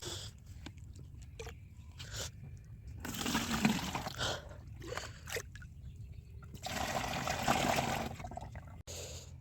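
Water poured into a pesticide sprayer tank, mixed with herbicide for spraying a maize field, comes as two close, splashy bursts of gushing with quieter handling noises between them and no talk.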